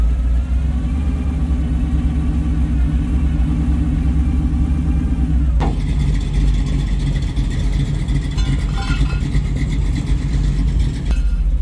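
A vehicle engine drones loudly and steadily while driving a teeter-totter run at a Wheels of Time show in Macungie, a low rumbling idle that shifts character midway and holds a continuous near, heavy tone.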